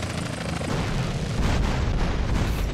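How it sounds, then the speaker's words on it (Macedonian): Deep booms and rumbling blasts from explosions in GTA San Andreas fill the clip loudly and continuously, with a man briefly exclaiming over them. "ги обожавам експлозиви у Сан Андреас"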